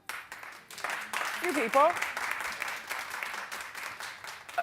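Steady crowd applause fills the clip, a dense wash of clapping with a person speaking briefly over it.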